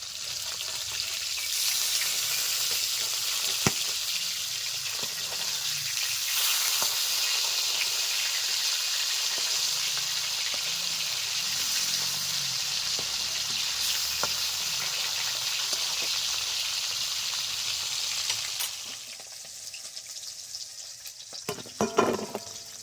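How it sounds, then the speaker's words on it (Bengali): Rui fish fries loudly in a pan, a dense, constant sizzle close up for most of the time, then dropping away into quieter clatter near the end. "এদিকে মাছটাও ভাজা হয়ে গেছে উল্টে দিচ্ছি"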